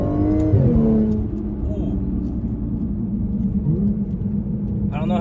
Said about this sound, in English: I'm not taking advantage of these supercharger noises.